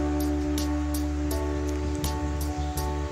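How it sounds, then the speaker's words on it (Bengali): Heavy rain pouring onto a flooded rooftop, a steady dense hiss with soft splashes and faint repeated drips, continuous and close, with no talking. "প্রচুর বৃষ্টি হচ্ছে।"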